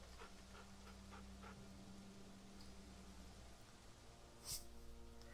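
A dog named Sam pants in The Walking Dead video game, a quiet run of rhythmic breathy huffs over a low steady hum, with a short sharp noise near the end.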